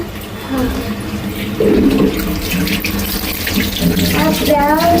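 Tap water runs steadily into a sink while something is washed, a close continuous splashing rush that grows a little louder partway through, with a voice briefly audible underneath.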